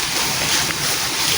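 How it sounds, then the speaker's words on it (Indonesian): Water rushes steadily, as from a waterfall somewhere below. A dense, even roar of broadband hiss fills the whole moment with no breaks and no talk. "Kayaknya ada sebuah air terjun di bawah itu."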